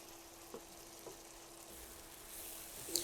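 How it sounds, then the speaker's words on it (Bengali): Spice paste with tomato puree fries quietly in a pan for chicken kofta curry, making a low, steady sizzle. A few soft stirring knocks come through, and a brief brighter hiss rises near the end. "মশলাটাকে খুব ভালো করে কিন্তু কষিয়ে নিতে হবে প্রথমে।"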